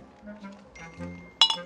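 Champagne glasses clink together in a celebratory toast: one bright, sharp clink near the end, ringing briefly after soft voices murmur in the background.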